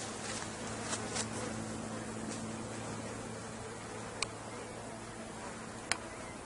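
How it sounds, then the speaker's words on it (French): Bees buzz among plants in an organic garden in July, a faint steady hum under broad outdoor hiss, with a couple of sharp ticks or clicks breaking through; no talking. "je sais pas si on va entendre du coup les abeilles"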